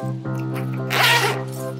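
A bag's zipper is pulled open in one continuous close, loud rasp lasting under two seconds, with a brighter surge midway.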